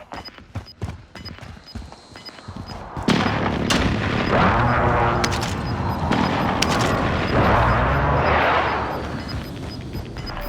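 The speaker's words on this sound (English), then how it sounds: "Be advised, friendly precision airstrike inbound." Precision airstrike explosions in the video game Call of Duty Warzone: after a few sharp bangs and clicks, a sustained run of rumbling, overlapping blasts and gunfire carries on loud for several seconds.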